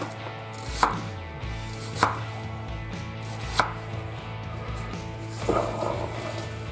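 Red onions chopped on a board with a knife, five distinct firm thuds spaced about a second apart, close and clear over a quiet room tone.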